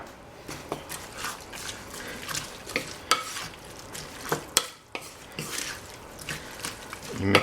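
Chopped heirloom Brandywine tomato, cucumber, a small green pepper and a banana pepper with salt are stirred together as salsa, making irregular wet squelches and sharp clicks in a close, steady mixing rhythm.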